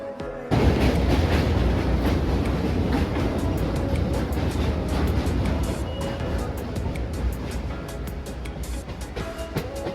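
A local train to Shantipur rumbles steadily along the rails with rhythmic clickety-clack of wheels, a continuous loud roar from inside the carriage.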